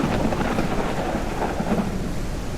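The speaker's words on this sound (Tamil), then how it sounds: "சரியான மழை." Heavy rain pours steadily in the farm game Ranch Simulator, with thunder rumbling beneath it and no voices.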